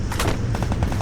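Gunfire in a shooting video game, heard as a quick burst of sharp, close shots in rapid succession, several evenly spaced cracks within about a second, with no voices.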